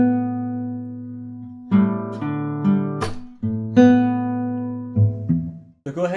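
Acoustic guitar picking a slow fingerstyle pattern for House of the Rising Sun, with single plucked strings ringing into each other in an even, unhurried rhythm, close and alone.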